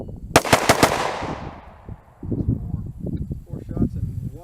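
Rapid burst of four rifle shots from an AXTS MI-T556 at a shooting range, loud and sharp with trailing echo, followed by people talking.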